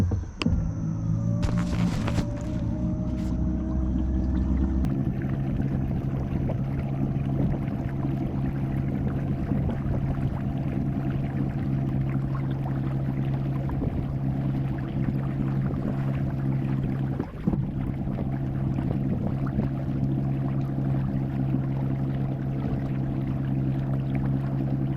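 A Watersnake T24 trolling motor converted to 18V drives a small boat, giving a steady, close electric whine and low hum with water rushing beneath it, running continuously with a brief clunk near the start.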